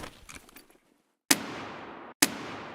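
Two sharp shots from a stock AK rifle in Escape from Tarkov during a night raid, about a second apart, each with a hard crack and a long reverberating tail.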